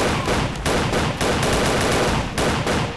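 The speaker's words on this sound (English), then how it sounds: "And the gunshots are so loud." Loud, rapid gunfire in the horror shooter game Freddy's bootleg pizzeria, dense overlapping bursts of shots hammering almost continuously with brief gaps, close and harsh, with no talk.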